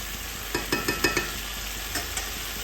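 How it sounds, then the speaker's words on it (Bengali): Spice masala for a vegetarian cauliflower curry with bori sizzles in hot oil while a spoon scrapes and stirs the pan. A steady frying hiss runs underneath a string of soft, close stirring knocks, with no talking. "আমি একটু ভালোভাবে কষিয়ে নিই।"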